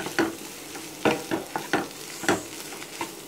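Spice powders are stirred into mashed potato masiyal in a pan, heard as a close series of irregular scraping and knocking strokes, roughly two per second, over a faint background sizzle.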